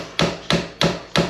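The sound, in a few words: cheap hammer striking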